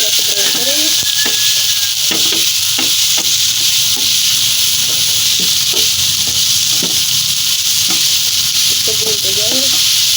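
Carrots browning in a pan for a carrot sweet dish, loud continuous sizzling with repeated scraping stirs of a spatula close by.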